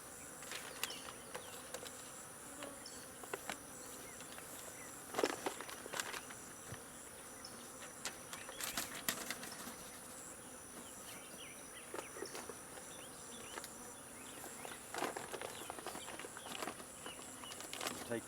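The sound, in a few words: honeybee swarms buzzing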